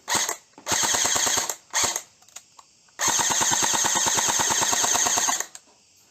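Jing Gong T3 airsoft gun test-fired in loud, rapid full-auto bursts: a short burst, a longer one, a brief burst, then a sustained stream of shots lasting over two seconds before the magazine runs dry.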